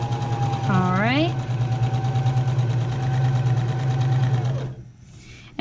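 A sewing machine stitches the fabric of a quilted iPad case in a steady, close hum that runs for several seconds before stopping, with a brief rising whine partway through.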